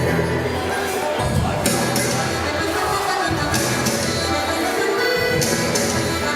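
Crowd noise fills a high school girls varsity basketball game in Springfield, a steady indoor murmur and shuffling with a few faint clinks running evenly throughout, no clear voice standing out.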